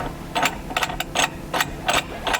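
A tool is wound down into the steering column of a 1999–2004 Ford Mustang SN95 during a turn signal switch replacement, giving a series of close, rhythmic ratcheting clicks in short bursts.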